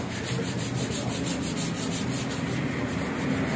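Sandpaper rubs over a motorcycle exhaust part in a quick, even back-and-forth rhythm, a close, continuous gritty scratching with no voices.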